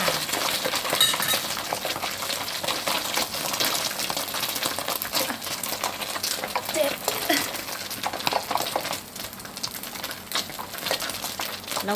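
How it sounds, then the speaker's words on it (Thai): Hot oil crackles and sizzles steadily as snakeskin gourami fish fries, a dense continuous hiss with faint clinks throughout. "เอาเนื้อปลาลงกระทะต่อ พอเนื้อปลาโดนน้ำมันก็จะฟูขึ้นมา"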